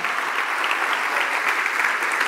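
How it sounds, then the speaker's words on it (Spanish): Steady, dense applause from a crowd, loud and continuous throughout without a break. "Muy buen entrevistador, así que un fuerte aplauso para John Summers también."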